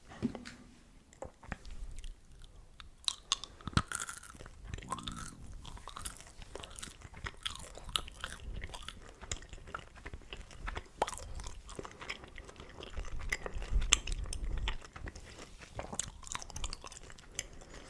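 Extra strawberry flavour chewing gum being chewed close to the mic, with soft wet squishes and small crunchy bites repeating steadily through a quiet, intimate take, no talking.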